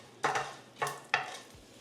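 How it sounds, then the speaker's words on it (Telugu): Garlic, lentils, chillies and peppercorns fry in a little oil as three distinct spatula strokes scrape through the pan over a soft sizzle, close and fairly quiet, with no voices. "ఫస్ట్ ప్యాన్లో కొద్దిగా ఆయిల్ తీసుకోండి. వెల్లుల్లి, పప్పు, మిర్చి, కొన్ని మిరియాలు."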